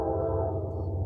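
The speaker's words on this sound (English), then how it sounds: "We're going to wait for the train." Train passing at a steady, low, continuous rumble with a droning hum, constant in loudness throughout the short stretch.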